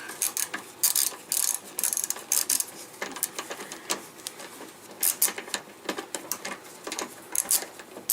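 Rapid ratchet clicking in quick bursts as bolts are run back in by hand on a 2008 Chevrolet Impala during transmission cooling line work, close and fairly loud, with short pauses between runs.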